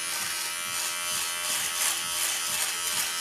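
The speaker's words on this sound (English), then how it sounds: "I can just use this little trimmer here to" A Braun cruZer 6 electric beard trimmer runs close up with a steady, bright motor buzz that holds evenly for the whole stretch, with no voices over it.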